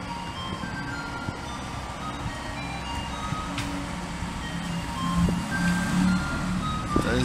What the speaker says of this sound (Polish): To jest dźwięk śmieciarki